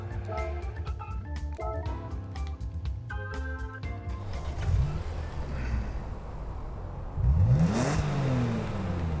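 A Gran Turismo 7 video game car engine revs up and climbs in pitch, rising to a loud sweep near the end over a steady rumbling background with some musical tones early on.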